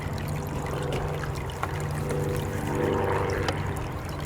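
Water runs and trickles down a Magnet Sluice mat in a gold-prospecting setup, a steady close gurgling flow with small splashes and drips, no voices.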